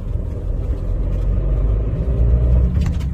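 A manual car's engine pulling in second gear, a steady low rumble with road and cabin noise at close range, fairly loud and continuous with no talking.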